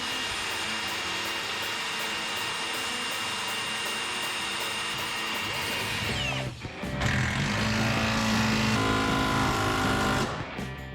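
A power drill bores into a steel truck frame during a squarebody shortbed conversion, whining steadily and loudly, with a brief dip and pitch change near the middle before it picks back up.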